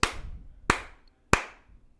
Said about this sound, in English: If you just put your hands together and you clap, you've got a rhythm.